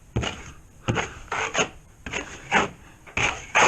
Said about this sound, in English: Troweling it out, nothing to it.